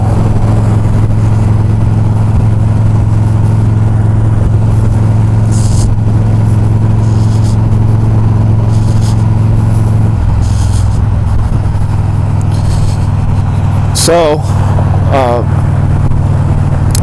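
Steady loud roar of Los Angeles freeway traffic heard from inside a moving vehicle, with constant engine and road rumble, a couple of brief squealing sounds near the end, and a voice speaking briefly.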